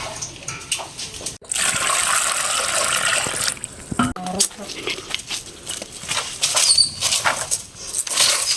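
Water drawn and poured by hand at home during a power cut, heard as loud gushing, splashing pours in several bursts with brief pauses between them and a steady, noisy flow in the middle.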